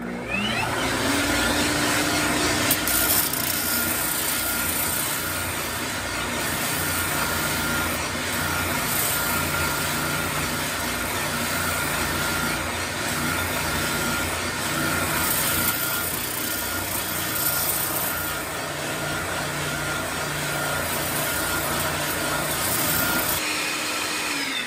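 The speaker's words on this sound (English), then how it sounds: "use this jig, which is used on both the bandsaw and this spindle sander, to remove the bandsaw marks" A spindle sander smooths bandsaw marks from a wooden workpiece held in a jig, giving a steady, loud motor drone with a grinding, rumbling sanding texture that runs unbroken throughout.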